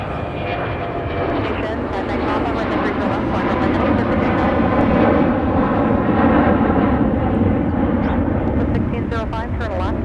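A heavy jet airliner departs from Minneapolis–St. Paul airport with a loud, broad engine roar that builds and holds across the whole stretch. It sounds near and powerful and stays steady throughout.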